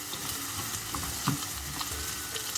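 Onions, green chilies and ginger fry in a pan, a steady close sizzle with occasional stirring scrapes and small pops, heard without voices.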